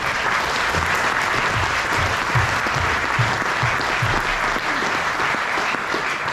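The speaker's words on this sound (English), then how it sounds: "Can we have a round of applause please for Liz" Audience at a speech event on food issues gives a steady, dense round of clapping, continuous and evenly loud throughout with no voices.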